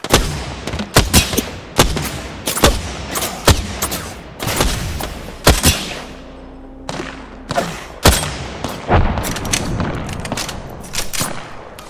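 Gunfire in Apex Legends: a dense exchange of loud, close shots and bursts with scattered thuds, the firing briefly pausing midway before resuming.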